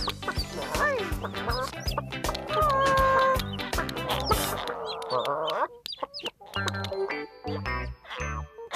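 Cartoon chickens cluck and chatter on a farmyard at breakfast time, busy repeated clucks mixed with bright tinkling music and jingles, fairly loud throughout.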